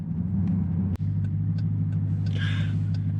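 A deep, steady engine rumble from a 2021 Dodge Durango SRT, with a sharp click or tick partway through and a faint higher whine near the end.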